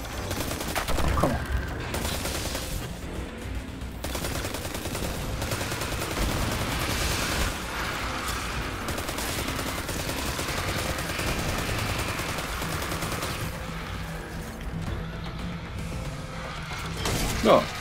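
Weapon fire in Destiny 2 during Solstice of Heroes Warlock gameplay, with bursts of rapid shots and crashes over dense game noise, fairly loud throughout and rising again near the end.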